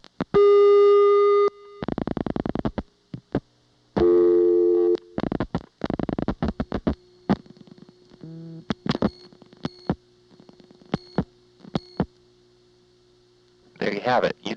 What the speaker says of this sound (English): you'll hear the sender dialing 35, connection gets made